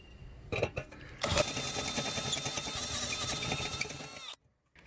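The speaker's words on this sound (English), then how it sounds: "transition over to my trusty step bit or unibit. And we'll go ahead and make a larger hole." A step bit bores a larger hole, rising into a continuous close, high-pitched drill whine for about three seconds after a couple of short starts, then cutting off abruptly.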